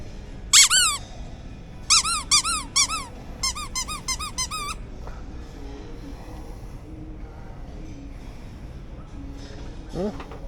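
Dog toys squeaking in short bursts, with a single squeak, then two rapid strings of squeaks, one more faint squeak near the end and a low background hum.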